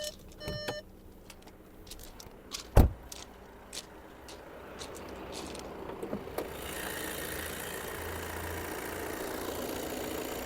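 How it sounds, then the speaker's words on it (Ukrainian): Scattered clicks and a sharp knock lead into a 2020 Volkswagen Passat Elegance 4Motion engine idling steadily, a low even hum that grows slightly louder toward the end. "Гляньте, як працює двигун, демпфер не стукає, все гарненько"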